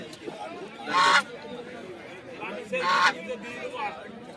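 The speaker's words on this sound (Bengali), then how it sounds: "রাজহাঁস কত সুন্দর সুন্দর রাজহাঁস রয়েছে দেখুন বন্ধুরা ডাক করছে" Geese honk at a busy rural bird market in Bongaon, two loud bursts of harsh calls rising over a background of crowd chatter and nearby talking.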